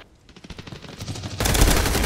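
Gunfire in the tactical shooter game Hired Ops, a quick run of shots building from distant cracks to a loud, dense, close-range barrage in the final second, with no talking.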